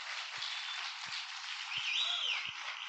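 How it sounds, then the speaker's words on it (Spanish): A church congregation applauding the Lord during a faith testimony service: steady, sustained, somewhat muffled clapping from many hands, with a few dull low thumps. "Dale un aplauso si lo crees al Señor"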